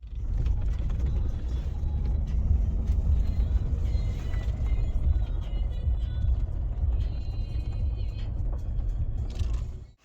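A pickup truck carrying a spare engine block drives along, its steady low road rumble and engine drone continuous and close from start to finish, cutting off abruptly at the end.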